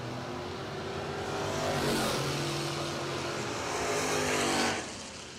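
An Oldsmobile drag race car at a doorslammer drag racing event, its engine roaring loud and steady as it accelerates, building and then dropping sharply near the end, heard alone without talk.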